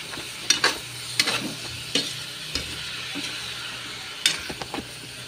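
Chop suey vegetables with squash are stirred in a pan over a soft background sizzle, with several sharp, sporadic spatula scrapes and clinks against the pan, close but fairly quiet; no talking.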